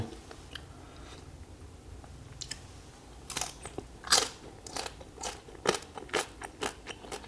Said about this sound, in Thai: คำนี้คำสุดท้ายขอแบบกรอบๆปิดท้ายหน่อยแล้วกัน